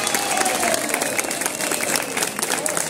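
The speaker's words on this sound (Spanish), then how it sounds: "Un aplauso también." An audience at a community group performance breaks into sustained applause, dense clapping with some crowd noise filling the whole stretch at steady loudness.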